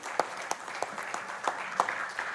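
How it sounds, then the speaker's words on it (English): Sparse, moderately loud applause from an engineering society audience, individual claps standing out in a loose, uneven rhythm over a short stretch. "Please give him a huge round of applause"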